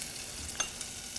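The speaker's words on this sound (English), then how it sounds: "In the meantime, that one is also frying there." Potatoes frying quietly in a pan, a soft steady sizzle with a couple of faint clicks, no voices.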